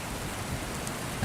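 Steady rain falls as a dense, continuous hiss of drops at even loudness, with a brief louder thump near the end.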